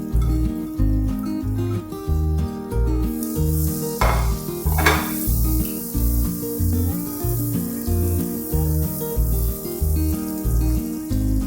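Onions sauteing in a pan while garlic buttered shrimp is cooked, a steady loud sizzle with rhythmic stirring scrapes and clanks throughout, including two sharper bursts of hissing.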